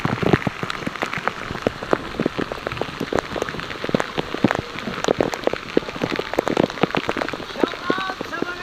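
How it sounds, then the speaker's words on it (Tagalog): Heavy rain pours near an underground river at Big Lagoon, a dense steady patter with many sharp close drops spattering across the whole stretch. "Ang lakas ng ulan."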